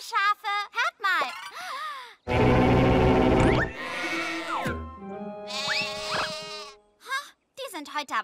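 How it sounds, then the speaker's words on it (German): Sheep bleat repeatedly in a cartoon scene, wavering calls rising and falling amid busy animated sound effects and music, with a voice speaking between them. "Hallo Schafe, hört mal."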